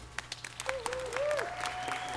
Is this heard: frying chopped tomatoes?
no